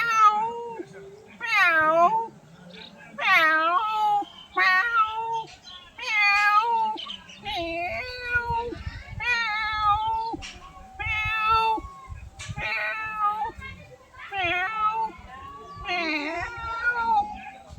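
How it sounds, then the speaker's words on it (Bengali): A sick cat meows over and over, a long series of loud, drawn-out, wavering cries separated by short pauses, with a faint low rumble beneath. "ঠিক তখনই বুঝতে পারবেন যে এই আওয়াজটা শুনলে বুঝতে পারবেন যে বিড়ালটা অসুস্থ"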